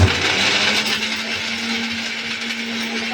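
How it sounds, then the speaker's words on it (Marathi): A kitchen mixer grinder whirs steadily as it grinds wet masala for a curry, a loud continuous motor drone with a gritty high-pitched rasp and a steady low hum throughout, with no talking. "हा मसाला दळून घ्यायचा मिक्सरला"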